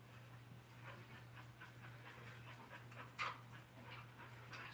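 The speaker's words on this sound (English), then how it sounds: "Max, I can hear you panting on the microphone." A dog pants close to a microphone in a steady, soft rhythmic breathing that runs throughout, alongside a constant low electrical hum and one brief brighter noise near the end.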